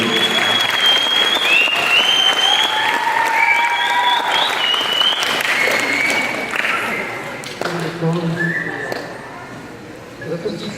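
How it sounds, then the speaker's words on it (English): A crowd at an opening ceremony for community games applauds loudly, sustained dense clapping with some shouts and whistles over it, easing off in the last few seconds. "Oh, you gotta clap louder than that,"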